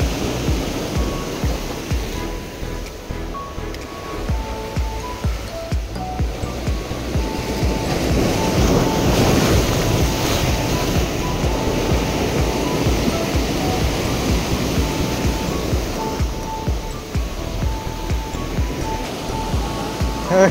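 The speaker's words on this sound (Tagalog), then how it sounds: "Makikita nyo talaga yung alon," Strong ocean waves break and wash continuously around an island fishing spot, a steady loud roar of surf with rising swells, and a voice speaks briefly over it.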